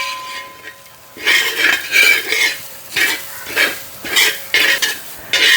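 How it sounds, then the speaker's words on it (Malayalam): Grated coconut dry-roasts in a pan while a spoon stirs it in repeated scraping strokes, each sweep a rough rasp. The strokes come close and loud in an uneven rhythm, with a soft sizzle between them. "അതിന് വേണ്ടിയിട്ടാണ് നമ്മളിങ്ങനെ ഇളക്കിക്കൊണ്ടിരിക്കുന്നത് കേട്ടോ"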